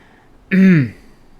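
A single short, voiced throat clearing, close and fairly loud, lasting under half a second amid quiet.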